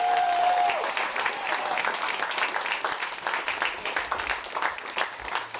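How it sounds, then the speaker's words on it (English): Audience applause at a 2019 men's summer cup presentation night, a steady dense wash of many hands clapping that carries across the whole stretch, with a faint voice briefly at the start. "a round of applause for our wonderful coaches"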